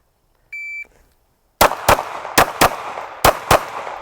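A shot timer gives one electronic beep, then after a pause a Smith & Wesson Bodyguard 2.0 pistol fires six loud, sharp shots close by, in three quick pairs.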